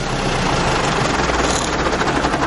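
A farm tractor runs with its PTO sprayer engaged, giving a steady, loud, close engine rumble and drone with no voices.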